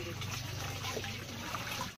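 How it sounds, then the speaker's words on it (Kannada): Heavy rain pours steadily outdoors during the monsoon at a house, a dense continuous wash of water noise throughout, close and loud, with no talk. "ಫುಲ್ ಮಳೆ ಮಾಡಾಗೈತ್ರಿ ಮತ್ತೀಗ"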